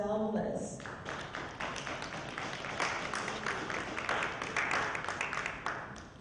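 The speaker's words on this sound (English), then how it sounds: "Please give a round of applause for Dr. Zal Velez." Audience applause for a speaker at an education conference: dense, steady clapping from a room of listeners, fairly close and sustained throughout.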